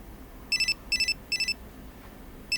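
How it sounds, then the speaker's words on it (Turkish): An electronic phone ringtone chirps in repeated bursts of three quick beeps, fairly loud and close, with short pauses between. "Telefon çalıyor duymuyor musun?"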